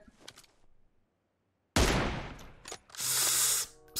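Gunfire from a firefight in PUBG Mobile: after a near-silent start with a few faint ticks, loud heavy shots and bursts suddenly erupt, followed by a sustained, harsh rattle of fire before it cuts off.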